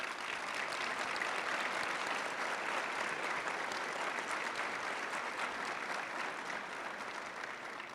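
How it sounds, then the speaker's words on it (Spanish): Steady, even applause from a panel audience, a dense wash of many hands clapping at moderate distance, sustained without pause and with no talking over it. "si me hicieran favor un aplauso"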